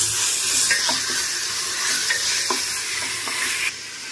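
Whole chillies frying in a pan for basmati chicken biryani, a loud continuous sizzle broken by a few scraping stirs, then dropping quieter near the end, with no talking.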